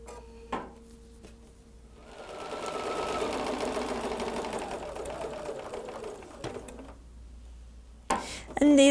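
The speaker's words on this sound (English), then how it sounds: "We can go ahead and take that to the sewing machine and we'll sew 1/4 inch all the way around." A sewing machine stitches a quarter-inch seam around a shabby-chic table decoration, its needle humming in a continuous run for several seconds between quieter handling knocks and clicks, close and fairly soft.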